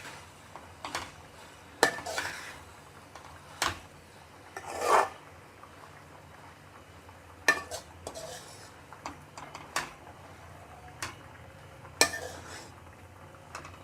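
A metal spoon scrapes and rasps around a pan while chicken stuffing with ketchup is mixed, giving scattered clinks and rubbing strokes against a quiet background, with faint talk in places.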